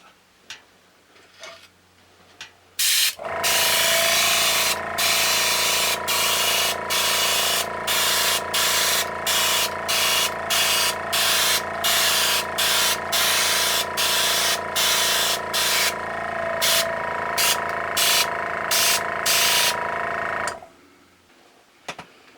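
Airbrush spraying paint over a stencil on a painting, a loud steady hissing spray broken by frequent short pauses and rhythmic interruptions, running alone for about seventeen seconds before cutting off.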